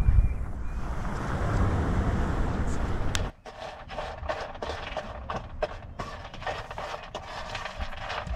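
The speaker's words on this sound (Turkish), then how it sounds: "Hemen şu tarafta da denizimiz var. Dalga sesleriyle uyuyacağız bu gece." Black Sea waves wash the shore at Cide, heard as a broad rushing surge under wind noise for the first few seconds, then a quieter stretch of scattered knocks and rustles.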